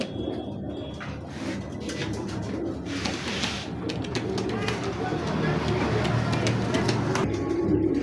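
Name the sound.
pigeons cooing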